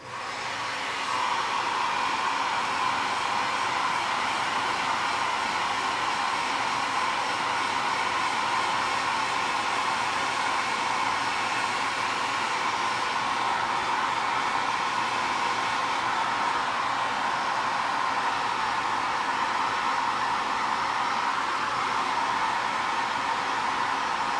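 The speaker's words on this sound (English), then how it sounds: "I need to dry it, so again with a hairdryer." A hair dryer blows steadily to dry a first layer of paint on miniature figures, a continuous close whirring hiss that holds level from start to finish with no talking.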